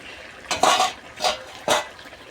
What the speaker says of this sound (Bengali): এবার এটাকে খুব ভালোভাবে নাড়তে হবে যাতে ওই জলটা ওখান থেকে মরে যায়